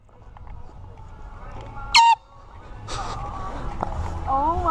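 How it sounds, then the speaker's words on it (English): A single loud air horn blast about two seconds in, short and piercing, surrounded by outdoor background noise and murmuring voices. "I'm gonna do a public air horn prank"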